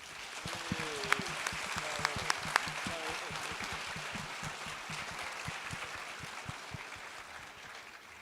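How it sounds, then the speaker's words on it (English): Audience applause fills a hall at the MILSET Expo-Sciences International 2023 closing ceremony, a continuous, somewhat distant wash of clapping with a few sharper claps and a voice speaking briefly over it early on. "A huge applause, please."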